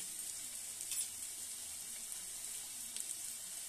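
Spices for a chicken pulao sizzle steadily in a pan, a faint even hiss that runs throughout with a couple of slightly louder crackles and no talk.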